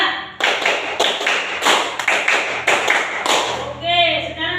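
Boys in a classroom clap a rhythmic call-and-response pattern in sharp, grouped bursts of many hands, loud and close, and a voice briefly speaks at the end.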